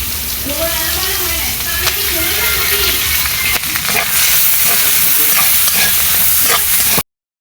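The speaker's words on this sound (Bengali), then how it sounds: "এখন আমি পেঁয়াজটা দিয়ে দেবো কাঁচামরিচ" Onion and green chillies sizzle and fry in a pan for a rohu fish curry, a loud continuous hiss with stirring scrapes and clatters, while a voice speaks briefly over the first few seconds.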